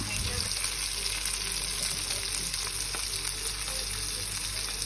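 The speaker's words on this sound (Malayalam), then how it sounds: "അങ്ങനെ മീൻ മൂത്തുകൊണ്ടിരിക്കുന്നുണ്ട്" Indian mackerel fries in a pan over a low flame, a steady close hiss and sizzle with crackles throughout and no pauses.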